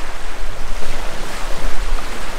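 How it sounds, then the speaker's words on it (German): Strong wind roars steadily by the sea on an island, with waves and surf rushing continuously underneath, loud and unbroken with gusty swells and no voices. "der Wind heute war etwas stärker"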